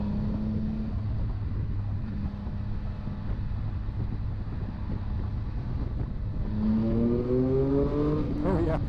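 2020 Triumph Speed Triple RS motorcycle engine drones steadily under heavy wind rush, then revs climb in a rising whine after a downshift as the bike accelerates hard, close and loud.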